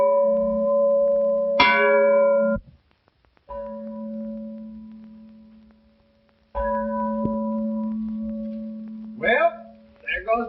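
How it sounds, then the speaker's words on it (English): A bell rings out in a western setting as a sustained, resonant tone struck twice, each ring fading away slowly, with a brief quiet gap between the strokes and a faint chirp near the end. "there goes the bell"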